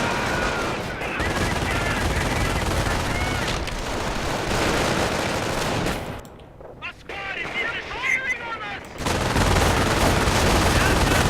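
An MG42 machine gun in a World War II video game firing continuous bursts amid other gunfire and explosions, with a short lull before the shooting resumes loudly.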